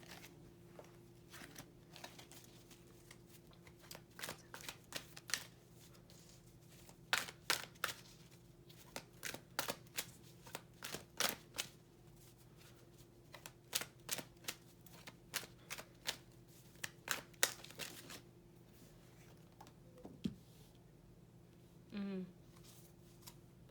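A deck of oracle cards is shuffled quietly and close up, giving irregular bursts of crisp riffling and flicking clicks with short pauses, ending with a brief faint noise.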